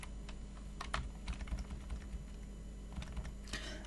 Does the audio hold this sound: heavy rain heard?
no